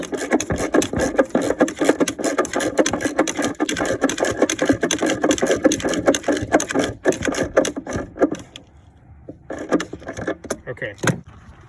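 A socket wrench tightens a car battery hold-down, giving a run of quick close ratcheting clicks and metallic rattles that stop briefly near the end before a few more clicks, with someone speaking over it.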